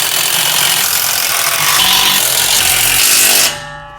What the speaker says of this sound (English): Next, we're going to tighten up the carriage bolts